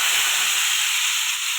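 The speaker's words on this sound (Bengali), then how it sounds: "এবার আলু পটলটা এই তেলে ভেজে নেব" Potato and pointed gourd frying together in oil give a loud, steady hiss close by, even and unbroken throughout, with no voices.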